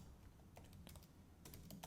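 Computer keyboard keys clatter in quick irregular bursts, close but quiet, with a low background hum and no voices.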